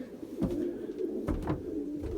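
Pigeons in a crowded coop give a few soft, close coos over a low, continuous murmur of other birds.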